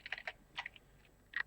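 Keys clicking on a computer keyboard while a header is typed for a ship-controls game project, a few short quick bursts of taps with a gap in the middle, fairly quiet and close.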